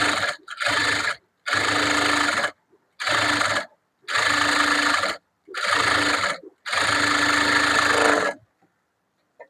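A sewing machine stitching a blouse lining runs in six or seven loud, close bursts of rapid mechanical whirring, each separated by short silences.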